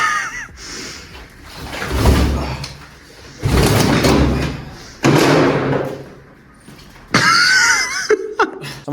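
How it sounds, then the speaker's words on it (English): Heavy thuds and slams as a door is battered with another door during a break-in at a property, several loud impacts in irregular bursts with scraping and a short shout between them. "Someone's trying to get through the door with another door."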